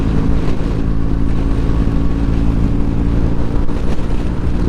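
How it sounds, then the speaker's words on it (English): Strong wind buffets an open, hilly area dotted with wind turbines, producing a loud, continuous low rumble that roars throughout with no pause. "If you hear the wind, because it is really pretty windy"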